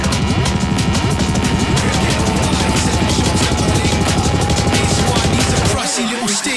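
DJ transition between two BPM-matched tracks with the fader brought up slowly, a dense, loud electronic mix with a steady pulsing beat and sustained tones that cuts off abruptly near the end.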